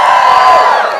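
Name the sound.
audience cheering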